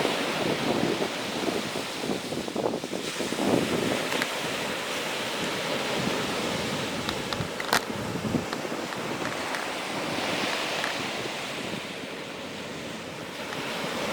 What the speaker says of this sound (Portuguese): olha o mar batendo com as ondas